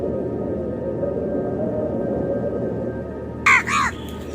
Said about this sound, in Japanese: カラスは大きな鳴き声を上げながら飛び去り